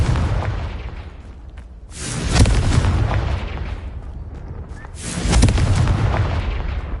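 Two heavy booming blasts from the Confringo explosion spell in Hogwarts Legacy, each a loud deep burst that rumbles and fades over a few seconds, about three seconds apart.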